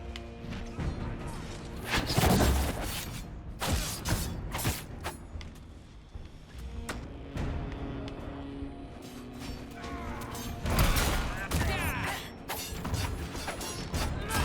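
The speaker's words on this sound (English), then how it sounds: "I keep getting hit by these fire mines." Fire mine explosions in Dragon Age: Inquisition crack and crash amid clattering combat effects, several loud bursts spread across the fight, with occasional voices.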